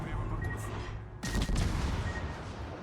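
Ship guns firing in World of Warships, a dense burst of heavy naval gunfire crashing out mid-clip over a constant background rumble of engine and sea.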